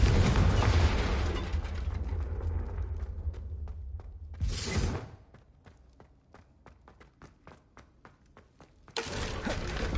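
A Confringo spell blast in the Hogwarts Legacy video game bursts with a heavy, rumbling explosion at the start, a second sharp blast midway, and another at the end, separated by a quieter stretch of rapid ticking clicks.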